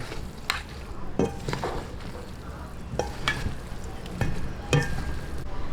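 A cassava suman mixture with coconut is stirred in a pot, giving a steady scraping and wet churning with a few sharper knocks of the spoon against the side, close and moderately loud with a soft sizzle beneath.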